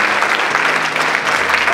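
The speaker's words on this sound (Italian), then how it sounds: "Fategli un applauso" Audience at an Italian entrepreneurship talk applauding a young businessman: continuous, loud crowd clapping that fills the room evenly for its whole length, with no talk over it.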